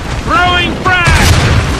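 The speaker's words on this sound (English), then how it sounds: "Throwing frag." Frag grenade going off in a clan-match video game, a loud booming blast with a rumbling tail that fills the second half, after brief tonal voice-like effects.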